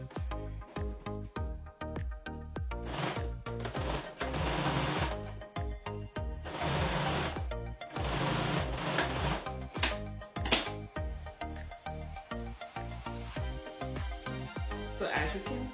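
A sewing machine stitches together scraps of fabric about 27 inches long for a braided headband, its rapid mechanical needle clatter running in bursts with short pauses, close and steady throughout.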